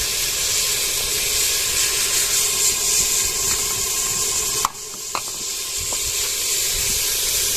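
Tomatoes fry in hot ghee with a continuous hissing sizzle, broken by a few light clinks of a utensil against the pan.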